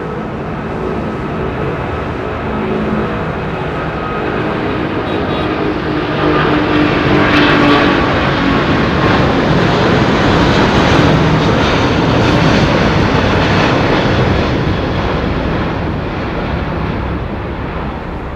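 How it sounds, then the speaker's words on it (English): An airplane takes off at London Heathrow Airport, its jet engine roar swelling to a loud, sustained peak mid-clip before easing slightly, heard nearby and without talk. "Graceful takeoff, yeah."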